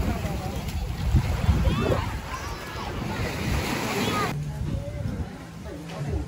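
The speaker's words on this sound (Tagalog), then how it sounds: "Alon." Ocean surf washes continuously at Laiya beach in Batangas, a broad rushing hiss with wind buffeting the microphone, while people talk nearby over the waves.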